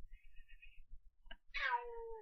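A pet cat lets out one drawn-out, whiny meow near the end, close up over faint low rumbling and a thin high tone earlier.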